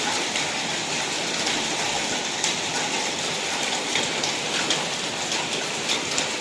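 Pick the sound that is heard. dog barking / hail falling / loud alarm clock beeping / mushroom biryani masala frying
hail falling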